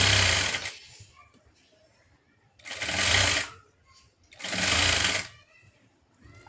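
A sewing machine runs in three loud, close bursts of stitching with quiet gaps between them, finishing the front neckline of a blouse.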